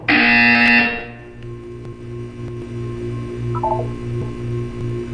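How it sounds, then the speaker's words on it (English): In the video game Portal 2, a loud harsh electronic buzzer blares for about a second, followed by a low humming drone and a short descending series of electronic tones. "You will hear a buzzer."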